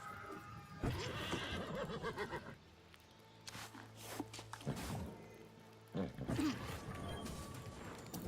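A horse in the video game New World whinnies loudly a few times, with hoof clops and a steady low background hum between the calls.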